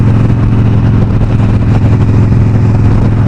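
Harley motorcycle being ridden on the road, a loud, steady low engine rumble with wind, continuous and close, no voices.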